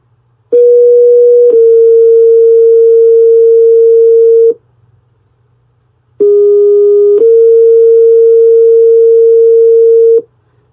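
Two long electronic dispatch paging tones are sent back to back, each a steady pitch that steps to a second pitch, separated by a short silence; loud and clean.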